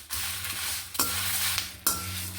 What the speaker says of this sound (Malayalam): ഇതൊന്ന് ഇളക്കാം.